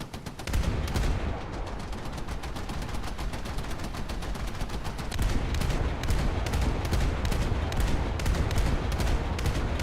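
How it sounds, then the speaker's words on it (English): Rapid, continuous anti-aircraft gunfire from a warship's guns in War Thunder, a dense fusillade of overlapping bursts that runs the whole way through and grows slightly heavier partway. "A lot of anti-aircraft guns."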